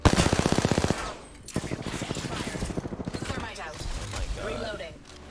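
Rapid automatic gunfire in the Apex Legends game, a fast regular burst of shots at the start, then more scattered fire and game effects under a player's talking.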